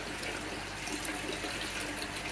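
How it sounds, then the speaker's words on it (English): Water pours steadily into a koi pond being topped up after a filter clean, a continuous even splashing rush with no voices. "I'm topping up the pond"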